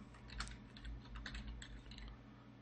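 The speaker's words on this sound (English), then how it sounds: "I can press the letter T or click on it over here, and I'm just going to make a box, click and drag to make a box, and type the, hit enter, McLaughlin," Quick, light keystrokes patter on a computer keyboard in a quiet room, a short irregular burst of clicks heard alone at low level.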